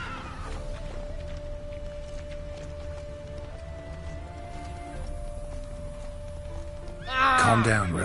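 A horse whinnies loudly near the end in The Witcher 3: Wild Hunt, over a continuous low rumble of background ambience with a faint steady tone.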